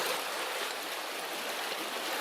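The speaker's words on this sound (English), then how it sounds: "So this should drain down pretty quick." Water rushes and drains through a flooded passage in an old mine, a steady broad hiss of flow, close and constant with no voices.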